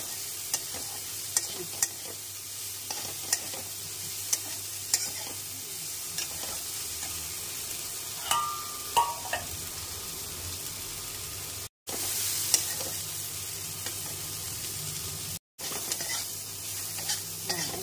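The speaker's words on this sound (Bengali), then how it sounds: "বরবটি ভাজা হয়ে গেছে, এখন গ্যাসটা বন্ধ করে দিল।" Yardlong beans (barbati) fry in a pan on a gas stove, a continuous soft sizzle with regular stirring clicks and scrapes, close by, no talking, with two brief cuts.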